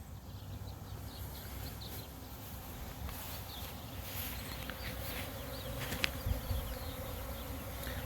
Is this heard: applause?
no